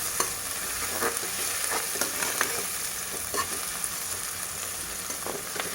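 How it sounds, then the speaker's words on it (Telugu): Onions frying in oil in a pot for goat head curry give a steady, even sizzle, with occasional soft stirring scrapes and spatters throughout; no talking. "వీటిని బంగారు రంగులోకి వచ్చేదాకా వేయించుకునేసి"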